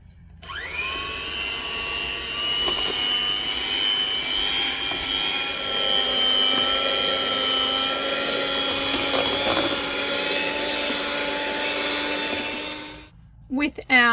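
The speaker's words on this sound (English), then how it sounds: "We're going to whip it with the beaters so that it's nice and soft and fluffy." Electric beaters whip mashed potatoes in a home kitchen, giving a steady, loud motorized whine that holds for about twelve seconds before cutting off, followed by a few brief clunks.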